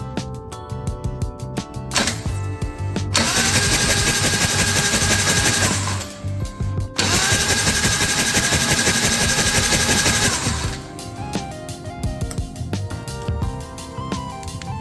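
The engine of a 1997 Harley-Davidson Road King police bike turns over on the starter with the spark plugs removed. It makes loud, fast, even mechanical whirring in two long bursts, with a short pause between them and quieter clicking and handling noises before and after.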